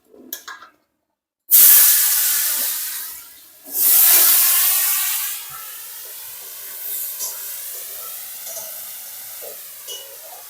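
Potatoes drop into used fish-frying oil in a kadai and set off a loud, bursting hiss. The hiss surges twice, then settles into a softer, steady sizzle that fades toward the end.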